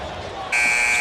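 A basketball shot clock buzzer sounds during an NBA playoff game between Phoenix and Portland, a sudden loud, steady electronic tone that cuts in halfway and holds under arena noise.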